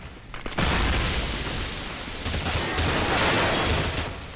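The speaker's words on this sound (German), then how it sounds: "Tiffin sieht überhaupt nichts, von wo überall die Schüsse kommen." Dense, continuous gunfire from a Counter-Strike match on the de_train map during a DreamHack Summer 2014 final, loud and sustained with overlapping shots after a brief quieter start.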